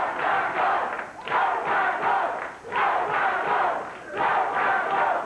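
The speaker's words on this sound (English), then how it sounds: "Go, Todd, go, says the crowd." A wrestling crowd cheers and shouts at a match in rhythmic rising waves, loud and close, swelling and dipping about every one and a half seconds like a repeated chant.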